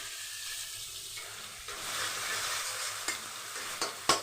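Tomatoes sautéing in a pan for a vegetarian yogurt-and-pointed-gourd dish, a steady close sizzle with soft stirring and a few sharp clicks of a spoon against the pan near the end, no talking.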